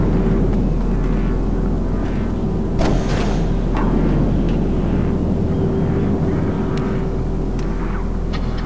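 In GTA Online, an airplane engine drones continuously and loudly, a steady low hum with a whining tone. A brief sharp burst breaks through near the middle.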